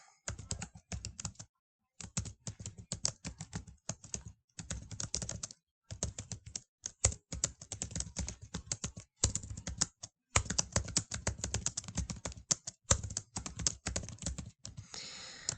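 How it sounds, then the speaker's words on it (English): Someone types steadily on a computer keyboard nearby, producing bursts of quick clicking keystrokes separated by short pauses, quiet and alone with no talk. "let's just say I'm typing"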